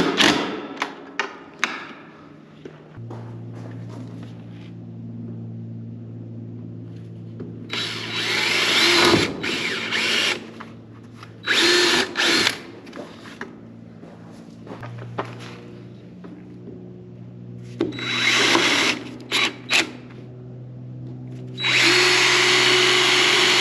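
A power drill tightens a screw on a plastic accessory for a 2024 Can-Am Defender HD9. Several short, close whirring bursts with starts and stops sit over a steady low hum, and there is no speech.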